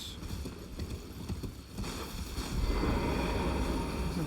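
Horse hooves walking in Elden Ring, a steady soft clip-clop of footfalls under a wash of wind and ambient game noise, becoming fuller and louder in the second half.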